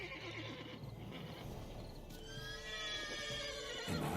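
Horse from Witcher 3: Blood and Wine, heard close with shuffling hooves and clip-clop steps, then a long, bright whinny swelling in the second half, with no voices over it.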